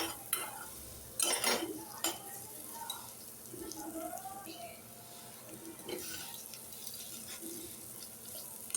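Spices in red chilli powder stirred and mixed in a pan while making dal tadka, with scraping spoon strokes and a few sharp metal clinks in a quiet kitchen, some water or tap noise, and soft speech at times.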